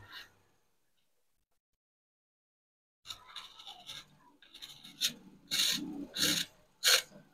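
Sandpaper rasps against a billiard cue tip during a jump-break tip installation, first silent, then a run of short scratchy strokes growing louder and more rhythmic, close up.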